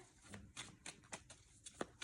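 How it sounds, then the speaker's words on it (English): A series of quick papery riffles and snaps as tarot cards are shuffled, fairly close and soft, in several short bursts. "Let's do a good strong shuffle here."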